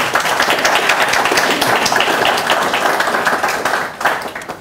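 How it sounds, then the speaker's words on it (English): An audience at a large community iftar dinner applauds after a Quran recitation, with dense, steady clapping that fills the room loudly and then begins to thin out near the end. "we could all give a round of applause for Muhammad for that recitation."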